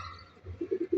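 A few short, soft pigeon coos repeat near the end of a brief, quiet moment.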